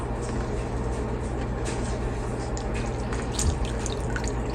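Bitter gourds (karela) are washed in water with continuous splashing and dripping, plus small clinks and rubbing sounds, at moderate level close by.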